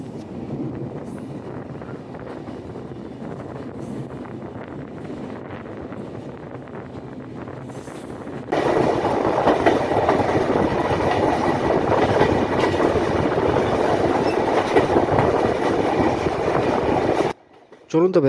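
The Ruposhi Bangla Express rolls along the rails leaving Benapole border station, a continuous rumble that grows louder and more rattling halfway through, wind buffeting the microphone, before cutting out abruptly.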